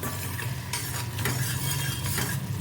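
A green chili pickle mixture stirred in a pan over the gas flame, with steady scraping and soft sizzling, close and continuous, a few light clinks of a spoon against the pan.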